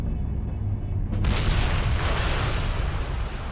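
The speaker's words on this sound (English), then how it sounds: "Other aircraft dropped incendiary bombs." Incendiary bombs exploding during a WWII bombing raid on a city: a sudden heavy blast breaks in after a rumbling lead-in, then sustained loud, roaring crackle and rumble.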